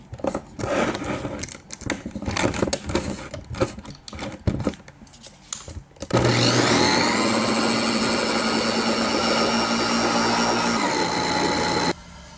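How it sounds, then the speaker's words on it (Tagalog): An electric blender whirring through yogurt cake batter, starting abruptly after some clattery handling noises and then running loud, close and steady for about six seconds before cutting off. "Tapos, i-blend natin."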